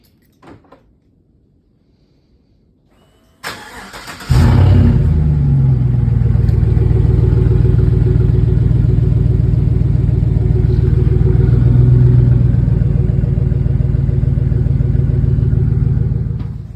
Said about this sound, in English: here's another quick remote start with everything, I guess we would call it straight piped